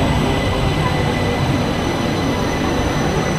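A Jakarta LRT driverless train rumbles steadily into a station, broad rail noise holding at a constant level with a faint high whine above it.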